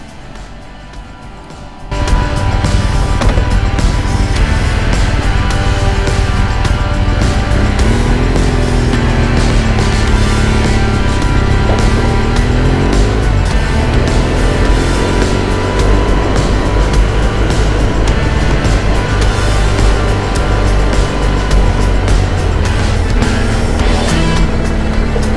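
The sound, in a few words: BMW R1200GSA motorcycle riding on the road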